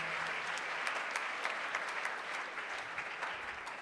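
An audience at a science quiz final gives the competing teams a steady round of applause, dense clapping continuing evenly throughout at moderate distance.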